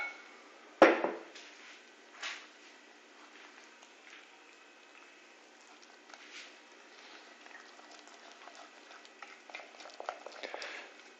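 Mochi dough of glutinous rice flour mixed with a spoon in a bowl: one sharp knock of the spoon against the bowl, then soft, uneven scraping and stirring that stays faint and close throughout.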